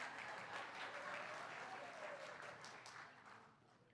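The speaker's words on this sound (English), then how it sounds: "Gretchen Vogel, clap, clap, clap, clap, clap." Applause from a congregation at a Sunday church service, a dense crowd clapping that stays strong at first and then gradually fades away.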